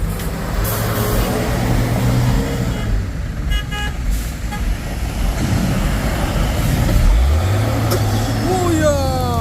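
A heavy trailer truck labours up the steep Bukit Kodok climb, its engine droning loud and low throughout, gear changes shifting the pitch, with a horn toot near the end and voices talking over the noise.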